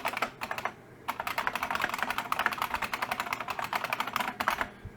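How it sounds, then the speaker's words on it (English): Rapid keystrokes clatter on a computer keyboard in quick close bursts, a few short pauses splitting the typing into runs of clicks, with no voices. "so I'm going to type in my URL"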